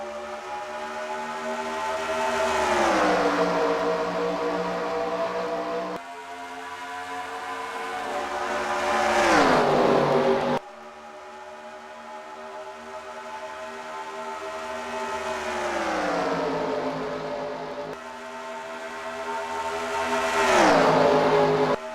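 Stock cars at Charlotte in a racing video game roar through long rising engine sweeps at the race start, each climbing to a loud peak before cutting off and starting again, four surges with no talk over them.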